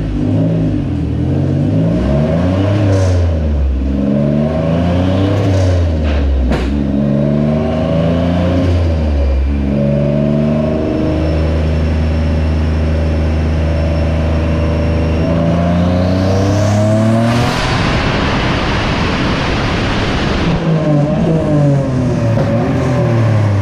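A Nissan R32 fitted with a VQ engine, strapped to a dyno, revs hard through repeated rising and falling sweeps, loud and close, ending in a sustained high-rpm pull that drops back to idle.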